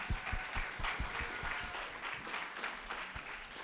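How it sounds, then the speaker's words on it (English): Applause from the audience at a LaughFest 2018 comedy show in thanks to a sponsor, a steady wash of many hands clapping in a room, with a few sharper claps standing out near the front. "let's give them a round of applause"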